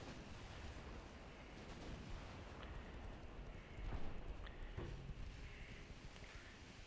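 Naval gunfire from warships in the Ultimate Admiral Dreadnoughts naval combat game: a few faint, distant booms, the strongest around the middle, rise out of a steady low background rumble.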